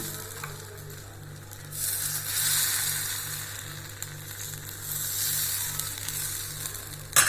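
Dosa batter spread wide on a hot pan for urappadai, giving a steady close sizzle that swells midway and holds, with a faint rhythmic hum underneath.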